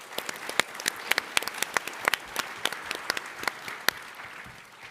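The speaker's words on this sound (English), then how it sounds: "Give IO a round of applause." Scattered audience clapping for a startup pitch at a tech conference, a modest crowd with individual claps standing out, moderately close and tapering off toward the end.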